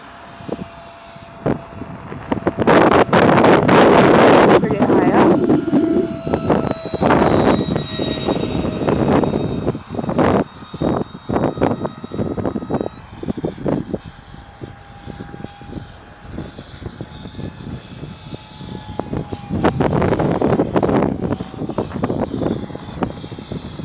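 FF-22 EDF model jet with a Detrum 64mm ducted fan on 4S power making full-throttle speed-test flybys outdoors, a loud rising and falling high-pitched whine that swells as it passes close, fades, then returns.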